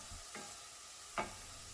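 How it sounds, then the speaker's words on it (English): Minced garlic, onions and bell peppers sautéing in a pan, a soft, steady sizzle with a couple of brief stirring scrapes, close but quiet, no voices. "So while these continue to saute,"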